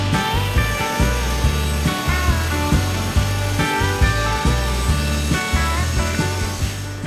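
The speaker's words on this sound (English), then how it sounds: "Got the rough milling done." Vertical-grain Douglas fir boards go through rough milling on power tools for a patio table. A loud, droning machine whine sounds alone, with regular rhythmic surges about every half second throughout.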